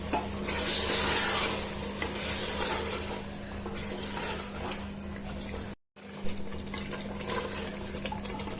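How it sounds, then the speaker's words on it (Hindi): Goat kidney and liver frying with whisked yogurt, stirred steadily through a loud, wet, hissing sizzle, with a constant low hum beneath and one brief dropout. "दही डाल के भी मैं इसको भून लेती हूँ।"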